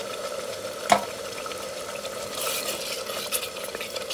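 Masala being stir-fried in a clay pot for a beef curry, a soft steady sizzle with stirring scrapes and one sharp knock of the spoon early on.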